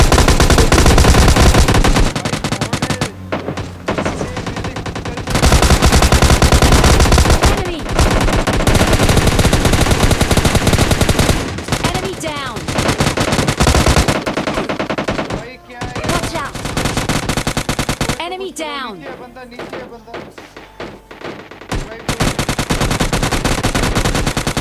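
Rapid gunfire bursts and fusillades crackle through a fight in the mobile game PUBG Mobile Lite, loud and nearly continuous with short pauses and some scattered single shots.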